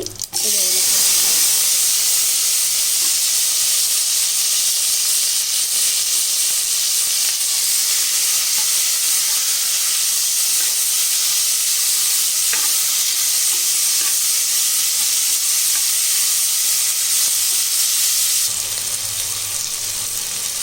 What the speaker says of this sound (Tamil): இந்த வெங்காயம் தக்காளி வதங்கிறதுக்கு கொஞ்சம் சால்ட்டு போட்டுக்கலாம் இப்போ இது நல்லா வதங்கட்டும்